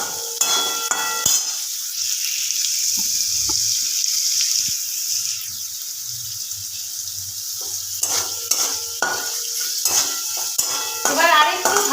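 Paneer cubes sauté lightly in a pan with a little salt, a continuous close sizzle running throughout, with clusters of metal spatula clinks and stirring scrapes at the start and again toward the end.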